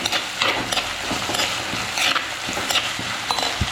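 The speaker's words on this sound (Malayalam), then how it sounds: "ആദ്യം ഒന്ന് സവാള വഴറ്റി കൊടുക്കാം" Onions sauté in a pan for a fish curry, giving a continuous close sizzle broken by repeated scraping stirs and light clatters of a spoon against the pan; nobody speaks.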